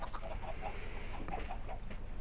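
Chickens in the Minecraft video game on an automatic chicken farm, a run of short, repeated clucks at mid distance over a steady background hum, with no talk.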